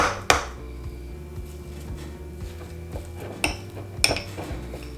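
A spoon scrapes and clinks against a bowl while ingredients for garlic butter pork chops are stirred, with a few sharp knocks standing out over a steady low hum.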